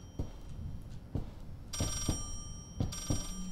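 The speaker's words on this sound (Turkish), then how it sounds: "Telefon çaldı." An old-fashioned telephone rings inside a house in the horror game Layers of Fear, repeated bell-like bursts at a steady rhythm, moderately loud over faint room ambience.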